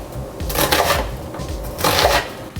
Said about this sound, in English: we are cutting up the onion